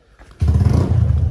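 A motorcycle engine catches after a brief scrape and settles at once into a loud, close, throbbing idle rumble.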